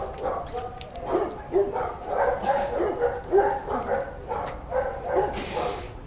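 A 9-year-old male Labrador at a shelter barks repeatedly in short bursts, with some whimpering yips mixed in, fairly close and steady over several seconds.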